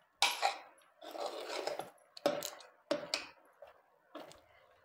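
Soft-cooked wheat for traditional wheat kheer being stirred and mashed in a pot: bursts of close metallic scraping and clinking of a utensil against the pot, in uneven strokes with short pauses, and no voices.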